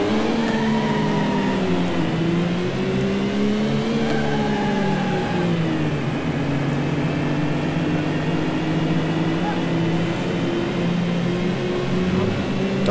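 Racing cars in Need for Speed 4 (Brennender Asphalt) accelerate from the back of the field, their engines whining loud and steady as the pitch climbs, dips and climbs again over layered motor drones, with no talking.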